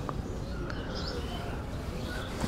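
Domestic native pigeons coo softly in a broken coop holding eggs and chicks, low murmuring calls over a faint, steady background hum.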